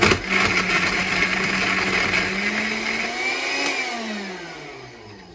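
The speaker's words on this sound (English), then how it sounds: "Another quick blend." A blender whirs loudly and steadily blending an iced coffee protein frappe, its motor pitch slowly dropping then rising as the contents churn, then winding down toward the end.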